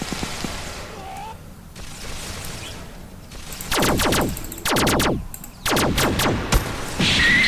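Video-game gunfire: several loud, sharp bursts of shots in quick succession, separated by short pauses over quieter ambient game sound.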